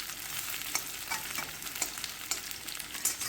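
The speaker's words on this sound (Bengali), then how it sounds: "কেটে রাখা পেঁয়াজগুলো দিয়ে নাড়াচাড়া করে আমি একটু সময় নিয়ে পেঁয়াজগুলো লাল লাল করে ভেজে নেব।" Chopped onions frying in hot oil make a dense, close sizzle with small crackling pops and stirring scrapes scattered throughout, and no speech.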